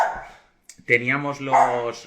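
A pet dog at home barks and yips nearby, loud and close, starting after a brief quiet stretch, with a drawn-out whining tone as it calls out.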